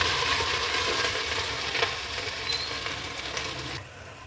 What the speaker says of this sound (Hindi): 1 टेबलस्पून जिंजर गार्लिक पेस्ट, लहसुन अदरक का पेस्ट डालेंगे और इसको हम लोग 2 मिनट तक इसकी भुनाई करेंगे अच्छे तरीके से